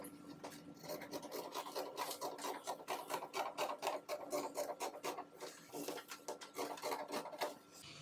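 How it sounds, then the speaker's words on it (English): Scissors cutting dress fabric for a one-side off-the-shoulder dress, a quiet rasping, crunching snip-and-slide rhythm repeating steadily throughout, close and fairly faint. "So now I can cut out."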